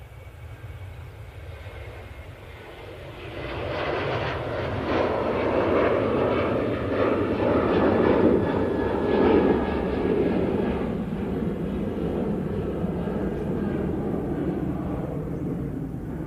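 A Ryanair airliner starts its takeoff roll at Manchester Airport, bound for Rome. Engine roar swells from a low rumble to a loud, sustained broadband thrust that stays heavy to the end, with no voices over it.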